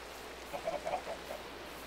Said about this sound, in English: No, that's a chicken.